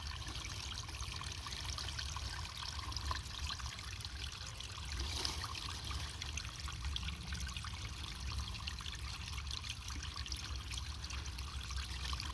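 Raw spring water trickles steadily into a container outdoors, a continuous close splashing stream with no pauses and no talking.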